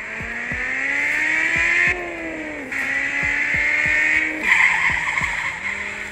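A car in the Car Parking Multiplayer video game revs steadily while the e-brake drags it into a skid, tire squeal rising over the engine drone with shifting pitch and a few short clicks, no talking.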